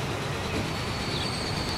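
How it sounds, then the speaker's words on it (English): A train rolls past in the railway game Transport Fever, a steady, continuous rumble and hum with faint high whine, moderately loud and unbroken, with no talking. "There's the other train."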